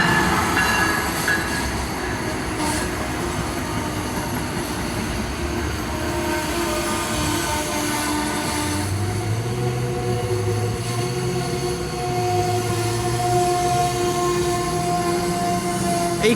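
An Amtrak train led by an ACS-64 electric locomotive rolls through Metropark Station in Iselin, New Jersey, with a continuous loud rumble of wheels, rising squeals and rail clatter close by.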